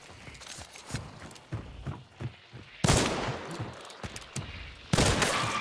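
Nagant Dumdum rifle gunfire in a first-person shooter game, a scatter of sharp single shots and some louder bursts, with footsteps and movement noise between them and no talk.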